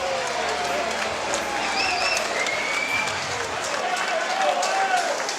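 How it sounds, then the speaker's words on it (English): Crowd applause at an extreme fighting championship event in an Indianapolis saloon, a steady wash of clapping and crowd noise heard at a distance under a commentator's talk. "Give him a round of applause."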